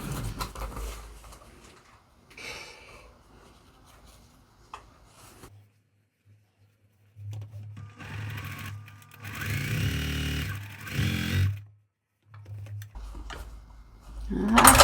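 A sewing machine stitches a quilt block strip for a Pieceful Basket sampler block, running in short bursts that start and stop, with quiet gaps and handling noises between runs.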